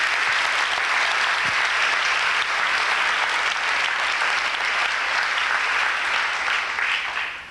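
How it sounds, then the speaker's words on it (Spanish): A crowd at a church talk gives a sustained round of dense applause, loud and steady throughout before fading slightly at the end. "Un aplauso al Señor"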